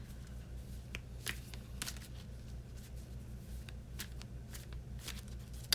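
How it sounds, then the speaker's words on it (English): Tarot cards are shuffled and drawn, soft papery flicks and riffles coming in scattered bursts against a faint low hum, close but quiet. "let's keep on pulling cards here"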